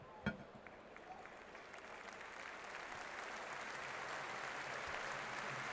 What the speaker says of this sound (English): it's a big, warm applause for Olaf Kabatsky, the Pole, making way for